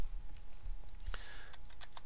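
Typing on a computer keyboard while entering a spreadsheet formula: a quiet, irregular run of light key clicks, sparse at first and then quicker, with no talk.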